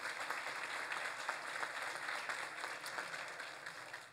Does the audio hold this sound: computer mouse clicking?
no